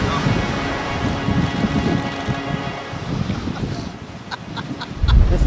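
Ocean surf and strong wind on an Icelandic surf break, a steady roaring wash with buffeting wind noise throughout, swelling louder near the end; a voice speaks faintly underneath.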